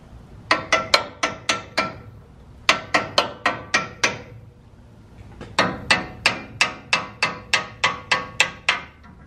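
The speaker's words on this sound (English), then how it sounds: "Hammer time." Sharp hammer blows ring out in quick rhythmic runs on a car intercooler, several strikes at a time with short pauses between groups, close and loud.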